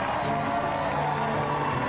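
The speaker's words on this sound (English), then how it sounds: "Look at the crowds here." Spectators lining the finish of Eliud Kipchoge's sub-two-hour marathon run raise a dense, continuous roar of cheering, heard as a broad wash of crowd noise with no pauses.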